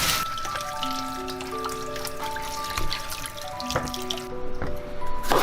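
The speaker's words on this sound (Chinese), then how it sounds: "拿出来把它们清洗干净。" Fresh bitter melons being rinsed under running tap water at a kitchen sink, with steady trickling and dripping throughout and a few soft clunks of the gourds being handled, no talking.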